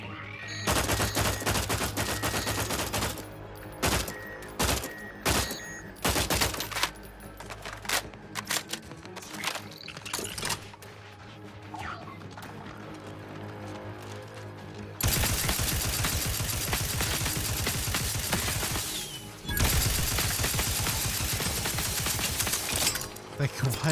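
Gunfire in The Outer Worlds 2 on hard difficulty, repeated bursts and scattered shots amid game music and effects, loud and busy, with heavier continuous firing in the later half.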